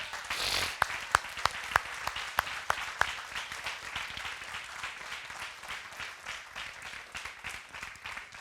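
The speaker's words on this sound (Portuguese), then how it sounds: "Você consegue dar um aplauso a Jesus?" Church congregation applauding during a Portuguese-language worship service, starting with a few distinct sharp claps and settling into steady, moderate applause that continues throughout without speech.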